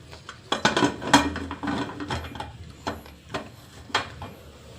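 A pressure cooker lid is closed over a pot of egg chicken sambar, giving several metallic clanks and scrapes close by, with brief quiet speech in between.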